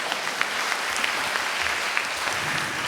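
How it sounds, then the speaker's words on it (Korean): Worshippers at a Korean Sunday church service break into enthusiastic applause giving glory to God. The clapping is thick, loud and continuous, with scattered sharper claps standing out from the crowd throughout the short burst. "하나님께 영광의 박수"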